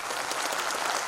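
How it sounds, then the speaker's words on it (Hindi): A crowd welcoming guests applauds in a continuous dense patter of many hands, moderately loud and heard alone for about a second. "तो हम सब लोगों ने उनका तालियों के साथ में स्वागत करना चाहिए।"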